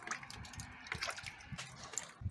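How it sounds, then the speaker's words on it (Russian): Meltwater from thawing snow in a damp yard at around freezing trickles and drips in a soft, uneven patter, quiet and close, with faint wet splashes scattered throughout and no speech. "Течет вода"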